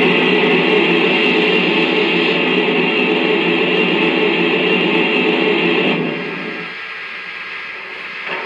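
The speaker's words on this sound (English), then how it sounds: "here's the sound of the steam blowdown." A Lionel 2-8-4 Berkshire model locomotive plays its steam blowdown effect, a loud, steady hiss that holds for about six seconds, then drops to a quieter rush.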